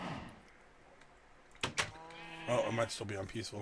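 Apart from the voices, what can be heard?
sheep bleating in a video game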